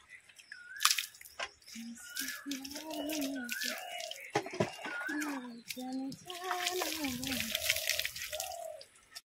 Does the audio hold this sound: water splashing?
yes